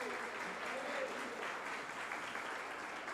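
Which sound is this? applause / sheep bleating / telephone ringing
applause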